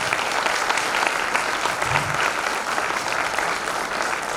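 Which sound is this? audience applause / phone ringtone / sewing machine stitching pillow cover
audience applause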